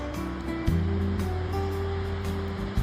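Palouse Falls, a waterfall with a nearly 200-foot drop into a rugged basalt canyon in eastern Washington, gives off a steady broad rushing roar, with low hum-like tones running underneath.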